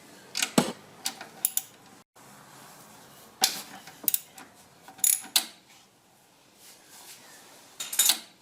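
A ratchet wrench clicks in short bursts while removing the alternator ground mounting bolt on a Nissan X-Trail, with sharp, close metallic ticks separated by pauses.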